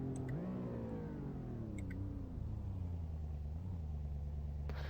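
A modded car engine in Euro Truck Simulator 2 hums steadily, its pitch sliding slightly up and down as it idles and revs gently. The sound is continuous and fairly quiet, with no talking.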